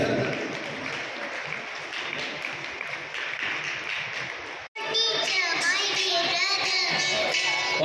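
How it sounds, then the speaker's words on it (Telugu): A crowd claps loudly in a dense patter at a Women's Day celebration, then it cuts abruptly to livelier clapping mixed with children's excited voices. "మీరు అందరూ ఒకసారి గట్టిగా క్లాప్స్"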